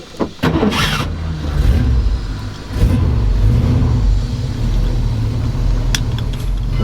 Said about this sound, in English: Gonna fire it up and take it for just a little drive.